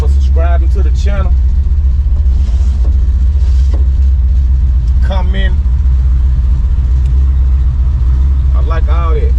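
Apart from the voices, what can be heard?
Chevrolet C10 truck engine running after cold start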